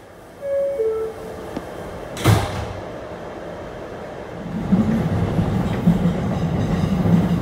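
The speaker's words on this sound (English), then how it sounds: "This is a Rockaway Park, Beach 116th Street bound shuttle train." An R211 shuttle subway train on the Rockaway Park line running between stations, a steady low rumble and rising wheel noise with a sharp brake or door burst partway through, close and continuous.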